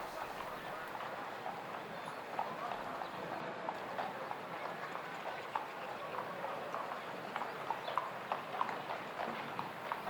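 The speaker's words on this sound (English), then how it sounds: "Kevin is riding Elise Spring Power, 13-year-old by Argentinus." Horse hooves clip-clop steadily across an arena during a show jumping competition, a continuous soft pattering of footfalls at moderate distance under a faint commentator's voice.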